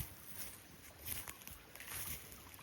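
Spring water running fast after heavy rain, a steady rushing gurgle heard close by outdoors, with faint rustling underneath and no talking.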